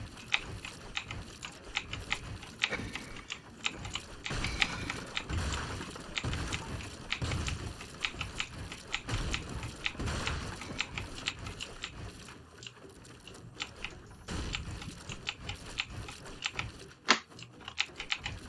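Rapid, steady computer keyboard typing with scattered mouse clicks, close up and continuous, with a few louder taps near the end.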